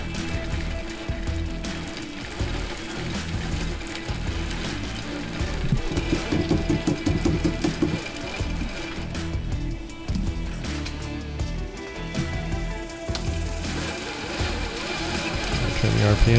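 A grain mill grinds malt for mashing, running with a steady, labored chugging drone that stays loud and dense throughout, with faint voices underneath.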